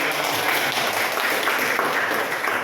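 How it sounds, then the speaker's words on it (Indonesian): Classroom applause in an Indonesian school lesson, a steady dense patter of many hands clapping together with little pause, fairly loud and close, no talk over it. "Ya, baik, tepuk tangan."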